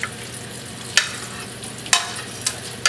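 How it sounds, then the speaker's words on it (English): Diced liver added to egg yolks frying in a pan, a steady close sizzle with a few sharp stirring scrapes at roughly regular intervals. "I'm going to add my liver that I have diced up."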